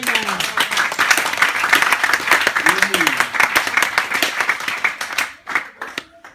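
A church congregation claps and cheers in praise at a Sunday service, dense applause filling the room for about five seconds with voices calling out over it, then thinning to a few scattered claps at the end.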